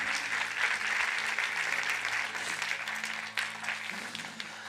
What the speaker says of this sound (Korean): 다시 한번 그렇게 인도하시고 또 영광 받으신 주님께 큰 박수 올려드리겠습니다